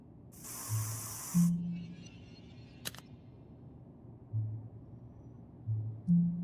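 A short burst of deodorant spray in the Fragments of Him video game, a bright hiss lasting about a second over quiet low ambience, followed by a sharp click and soft background tones.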